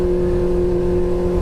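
A Kawasaki ZX25R motorcycle engine drones loud and close in a brief, steady burst, holding an even pitch with no voices.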